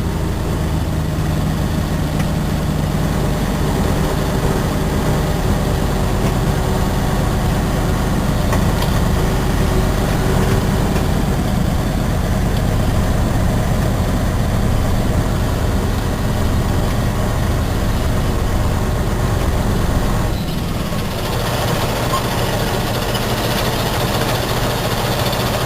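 A cement truck's heavy diesel engine idles steadily and loudly for the whole stretch, a constant low rumble that dips briefly near the end, with no talk.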